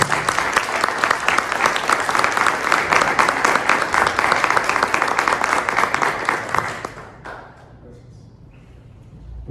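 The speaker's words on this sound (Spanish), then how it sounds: "por favor un fuerte aplauso para cerrar" An audience applauds loudly and continuously to close a panel discussion on electricity and the economy, the dense clapping stopping abruptly near the end into quiet room noise.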